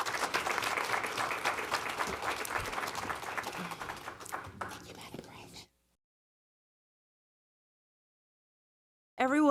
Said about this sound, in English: Everyone give Jarnay Harris a round of applause one more time